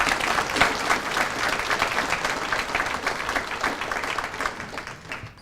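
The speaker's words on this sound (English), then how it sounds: "A round of applause for all of them would be in order." Applause from a ribbon-cutting crowd at a college student success center opening, a dense, steady clapping that fills the whole stretch and thins slightly at the end.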